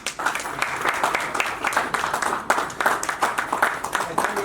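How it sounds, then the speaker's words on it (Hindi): Audience at a GATE rankers' meet applauding a rank holder, loud continuous clapping from a crowd with irregular sharp hand claps throughout. "हाँ, जोरदार तालियां हो जाए।"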